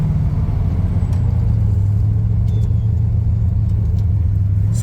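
Chevrolet Camaro driving along the road, a steady low engine rumble and road noise from inside the cabin, continuous and fairly loud.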